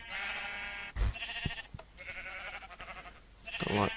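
Blocky sheep in Minecraft bleat several times in a row, with short wavering calls that come fairly close and loud, and a brief thump between them.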